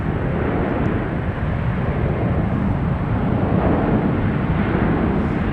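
Boeing 787 Dreamliner at San Francisco airport, a steady broad rumbling roar of engines heavy in the low end, loud and unbroken throughout with no speech.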